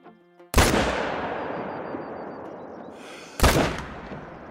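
Rifle shots fired at an animal while hunting in the video game Call of the Wild: two sharp, loud cracks about three seconds apart, each leaving a long rolling echo that fades out.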